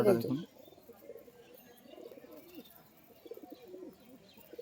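Pigeons coo in a loft, a series of soft, low, burbling calls spread across the stretch after a brief louder sound at the start, with faint chirps and people talking nearby.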